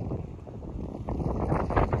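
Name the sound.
strong wind outdoors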